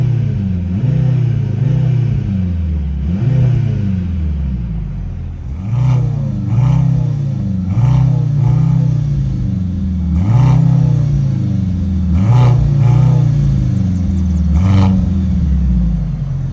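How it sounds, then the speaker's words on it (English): The 2024 Mercedes C63 AMG (W206) in race mode is revved repeatedly, with about seven loud, close blips rising and falling in a rhythmic pattern over a rumbling idle. "flip this over into race mode and give it a couple revs"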